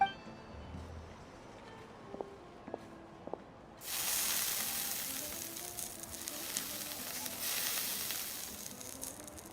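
Fish and mushrooms searing on hot armor in Genshin Impact, starting suddenly after a quiet stretch with a few faint clicks, then a loud, steady broadband sizzle and hiss that carries on unbroken to the end.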